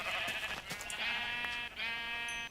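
Sheep bleating in the video game Minecraft, several overlapping wavering bleats close by, loud and continuous for a couple of seconds with a brief gap near the end.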